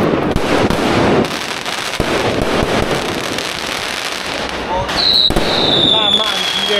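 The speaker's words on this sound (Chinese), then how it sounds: "放烟花了，放烟花，世界男人在那里放。" Fireworks going off outdoors on a street at night, a dense continuous crackle and rumble of bursts with a few sharper bangs, heard close and loud while people talk and shout excitedly over it.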